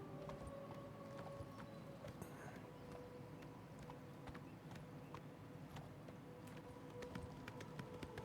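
Horse hooves in the video game Oblivion Remastered, a quiet steady clip-clop of footfalls at a running pace, faint under a low game background hum.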